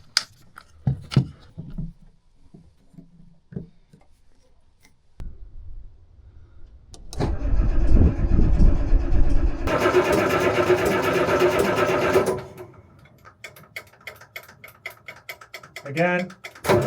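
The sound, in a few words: new engine being started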